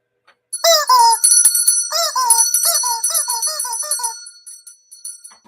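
A bell sound effect rings in quick bright dings and tinkling strikes, layered in a busy cluster for several seconds, loud and close before it fades into near silence.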